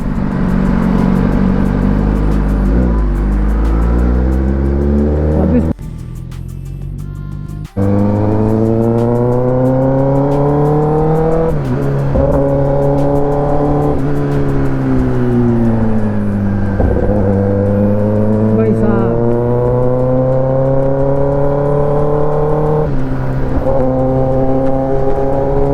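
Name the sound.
Kawasaki ZX10R motorcycle exhaust riding without dB killer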